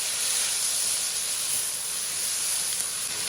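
Bean sprouts and glass noodles hiss and sizzle loudly in a hot wok during stir-frying, a continuous dense frying noise with no pauses.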